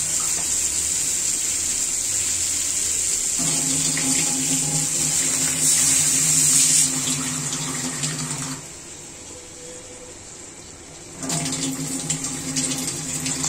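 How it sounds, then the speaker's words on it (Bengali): Water is poured into a pan of fried brinjal for a brinjal and fish curry, giving a steady splashing, gurgling pour that runs loud and continuous, eases off briefly, then picks up again near the end. "এখন আমি এতে পানি অ্যাড করে দিব।"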